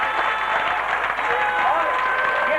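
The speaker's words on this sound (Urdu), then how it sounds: "1 منٹ تک تالیاں بجا کر خراج تحسین پیش کریں" An audience at a Pakistan Peoples Party gathering claps in tribute, a continuous wash of applause heard close, with a voice talking over it.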